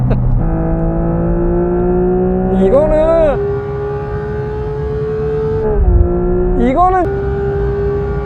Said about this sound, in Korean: 911 GT3 사운드를 굉장히 많이 참고를 해서 만든 6기통 사운드거든요